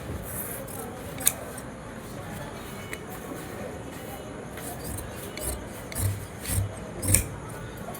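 Scissors cut through pyjama fabric at a tailoring counter, with soft snips and rubbing of cloth, a few sharper crunching cuts near the end, and quiet handling close by.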